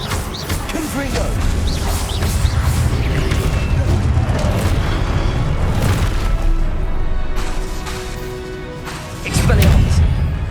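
Repeated Confringo fire-spell blasts in Hogwarts Legacy, a string of booming crashes and thuds over busy game noise, with a louder burst near the end; a voice calls out spells throughout.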